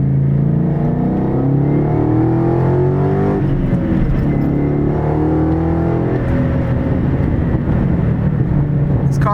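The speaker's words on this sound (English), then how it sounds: "doing a small pull right here in second gear" A Shelby Mustang GT350 engine drones loudly and steadily, its pitch climbing as it accelerates in second gear, with a brief shift partway through.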